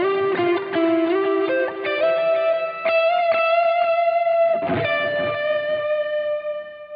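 Overdriven lead guitar solo played through an M-Vave pedal with delay, quick picked notes and bends rising into a long sustained note that trails off with echoing repeats, loud and close.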